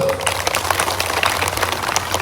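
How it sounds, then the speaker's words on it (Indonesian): Audience applause at a Temu Pendidik Nusantara education gathering in Sidenreng Rappang, a steady wash of many hands clapping at once, moderately loud and continuous without talk. "Tepuk tangan dulu."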